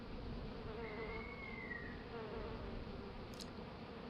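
Steady insect buzzing of bees in the video game A Tale in the Desert, a continuous droning hum with no pauses, with a short click near the end.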